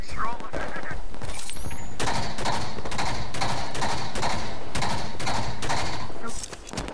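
Rapid automatic gunfire from the video game Halo rattles loud and close in steady repeated bursts for about six seconds, with an SMG among the weapons and some talk mixed underneath.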